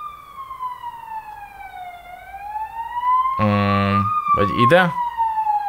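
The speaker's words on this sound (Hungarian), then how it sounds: "A mentő természetesen halad, és majd közlekedik." An ambulance siren wails in a slow rising and falling sweep as it passes. A brief buzzy electronic tone cuts in midway, and a voice speaks near the end.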